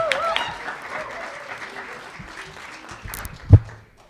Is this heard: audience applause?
yes